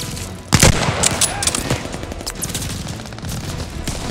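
Cover fire in the Call of Duty: Vanguard video game: sustained rapid gunfire and machine-gun bursts, loud and close, with a dense rattling fusillade continuing after a sharp onset, voices faint beneath.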